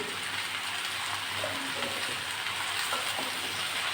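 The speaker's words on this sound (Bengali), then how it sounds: "সবজিটা নাড়াচাড়া করতে থাকবো আর দেখা দিয়ে দিয়ে আমি ভালো করে সবজিটা কষিয়ে নিচ্ছি" Vegetables seasoned with salt and turmeric fry in a pan with a steady, dense sizzle that stays loud throughout, broken by faint scrapes of stirring.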